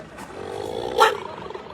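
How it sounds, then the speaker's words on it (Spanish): A souvenir jaguar whistle sold at Teotihuacan lets out a short, rough roaring growl that rises to a sharp peak about a second in, then fades away. It is close and loud. "Ese es el sonido del jaguar."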